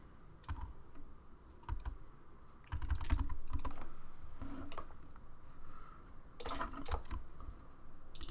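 Quick bursts of clicky computer-keyboard typing come in irregular clusters, close and fairly quiet, with short pauses between the runs and no voice over them.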